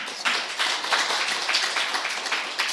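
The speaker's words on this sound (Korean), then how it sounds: "나오실 때 박수로 환영해 주시기 바랍니다" A seminar audience claps to welcome a lecturer, a dense, steady burst of applause that starts abruptly and carries on evenly at moderate loudness.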